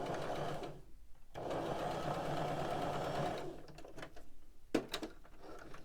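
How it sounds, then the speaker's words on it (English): A sewing machine stitching a sharp corner, running in a fast, steady mechanical chatter, pausing briefly, then resuming before stopping amid a few clicks and knocks. "put my foot back down and just continue sewing"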